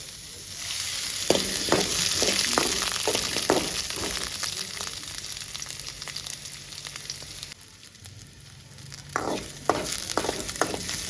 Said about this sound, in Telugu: ఉల్లిగడ్డ వేసుకొని ఫ్రై చేసుకోవాలి